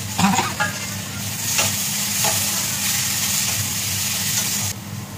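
Spices with turmeric and tomato sautéing in a home kitchen pan, a steady close sizzle broken by a few scraping stirs near the start, running continuously before cutting off near the end.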